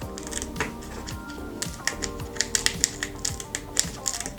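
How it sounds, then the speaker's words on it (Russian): Small scissors snipping dried chili pepper in a home kitchen, a series of crisp, irregular clicks and snips close to the microphone, fairly quiet. "Я нарезаю его ножницами до семян."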